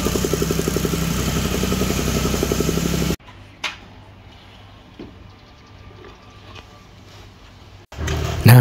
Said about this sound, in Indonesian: untuk pemadatan tanah kita menggunakan mesin stamper ya, biar tanahnya padat